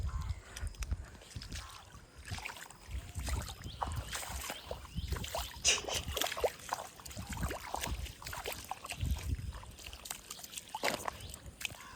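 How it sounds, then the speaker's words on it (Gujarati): Floodwater flowing fast after five days of continuous rain, a steady churning rush with sloshing surges that carries on throughout at close range. "ફાસ્ટ કેટલું પાણી જાય છે"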